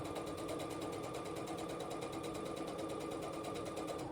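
A sewing machine stitching quilt pieces runs continuously at a fast, even rhythm, its needle clattering steadily throughout with no talking.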